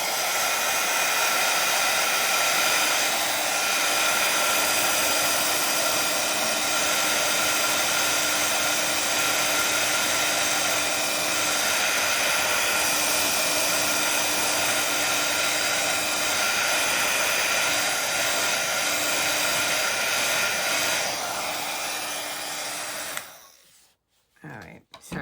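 A handheld heat dryer blows steadily and close for over twenty seconds, drying ink on a handmade card, a constant whooshing drone that cuts off near the end.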